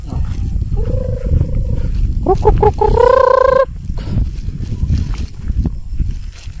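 Farm animal calls ring out over a noisy outdoor background, including a sustained tonal cry and a longer harmonic call, like poultry squawking.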